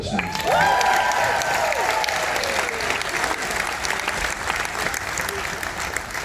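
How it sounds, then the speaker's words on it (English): Warm applause from passengers and officers aboard the cruise ship Celebrity Silhouette, a dense wash of clapping rising quickly and holding steady, with a voice speaking over the start. "This applause goes to all these hard-working crew members"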